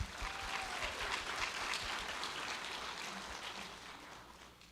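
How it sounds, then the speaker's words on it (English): An audience applauds young ambassadors at a Cherokee ambassador competition, a soft, distant patter of many hands clapping that slowly fades toward the end. "let's give them one more round of applause"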